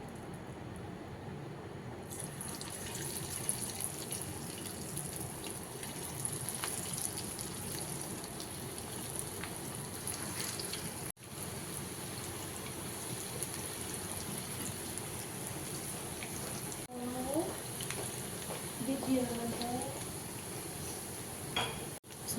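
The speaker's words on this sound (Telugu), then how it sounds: "నేను పకోడీ వేసుకుంటున్నాను ఇప్పుడు." Chicken pakodi frying in a pan of hot oil, a steady broadband hiss and crackle that runs throughout with a few brief louder bubbling bursts near the end, no talking.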